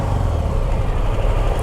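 A Harley-Davidson Sport Glide motorcycle engine rumbles under way, a low, loud, steady throb mixed with rushing wind.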